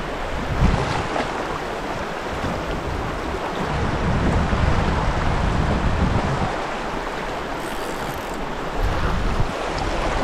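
Water rushing steadily along a river, a broad continuous wash with gusts of wind buffeting the microphone, no voices present.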